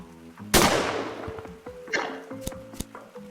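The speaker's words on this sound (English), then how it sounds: "This is a shotgun." Shotgun fired in the Gorilla Tag VR game gives one sharp, loud blast with a decaying tail, followed by several lighter thuds and clicks over a faint game tone.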